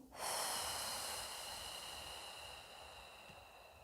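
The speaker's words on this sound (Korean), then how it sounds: "들이마시고, 내쉬고" A single long breath during a Pilates exercise with a stretching band, starting with a sharp close intake and then easing out steadily with a soft airy hiss.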